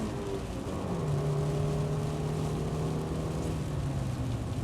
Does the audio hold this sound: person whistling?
no